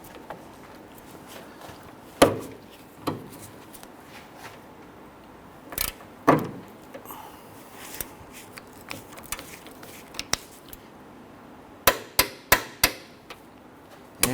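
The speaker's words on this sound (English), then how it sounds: "go ahead and torque down these 3 13mm bolts" A torque wrench tightening 13mm rear strut bolts on a 2006-2010 Honda Ridgeline, making scattered sharp metallic clicks and clacks, some in quick clusters, over a quiet background.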